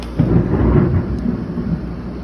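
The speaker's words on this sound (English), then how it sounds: "You could probably hear thunder." Thunder rumbles through a summer thunderstorm, a loud deep rolling boom that swells and slowly fades over a couple of seconds with rain faintly beneath it.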